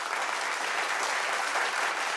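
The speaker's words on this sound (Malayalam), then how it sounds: "നമ്മുടെ പ്രിയങ്കരിയായ അമ്മയ്ക്ക് വലിയൊരു കൈയടി കൊടുക്കാം." A television comedy show audience gives a mother a big round of applause, dense sustained clapping from a full crowd with no pause.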